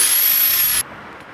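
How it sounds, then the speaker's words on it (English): A power drill bores out snapped-off screws with a brief, loud, high-pitched grinding whine that cuts off abruptly after under a second, leaving a quiet room. "I'm drilling out my old screws that I snapped off"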